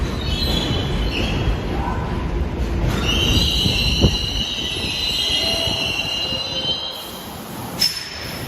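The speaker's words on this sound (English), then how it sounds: "So that loud, annoying sound that you're hearing right now is the train tracks." A train runs along elevated tracks in Astoria, Queens, New York City, a loud, continuous rumble with sustained high metallic wheel squeals heard from street level, no talking over it.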